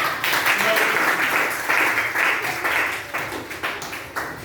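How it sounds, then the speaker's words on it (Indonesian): A classroom of students claps for a student group after its presentation, a dense burst of close, lively applause that keeps going for several seconds and then thins out toward the end. "Oke, berikan aplaus nak."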